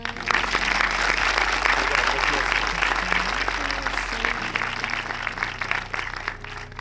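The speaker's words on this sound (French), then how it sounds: "j'aimerais que vous les applaudissez s'il vous plaît" A cinema audience applauding in a steady, dense wash of clapping that carries on throughout and tapers slightly toward the end.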